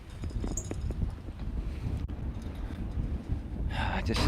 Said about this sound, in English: it's just very windy on this part